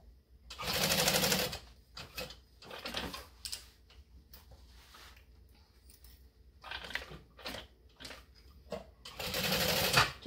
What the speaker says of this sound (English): then we'll baste these on. I use a 5 for my baste stitch